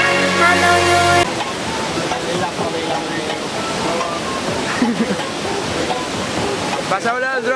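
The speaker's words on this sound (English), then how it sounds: "Are you liking the waterfalls?" A waterfall in Bali during the rainy season gives a steady broadband rush of falling water, with people talking over it and a brief burst of music at the start.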